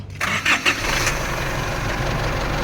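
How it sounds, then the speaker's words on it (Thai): An Isuzu Hi-Lander four-door pickup truck engine cranks with a couple of short bursts, then catches and settles into a steady, loud idle rumble close by. "มาดูฟังเสียง เครื่องนะ"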